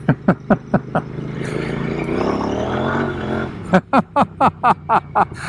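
A custom Royal Enfield Interceptor 650 motorcycle rides over loose pea gravel, its steady engine hum running beneath a string of evenly spaced loud thumps at the start and again near the end.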